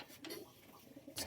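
Pigeons kept indoors coo softly in a brief, quiet burst against a hissy room background, with a louder rustle at the very end.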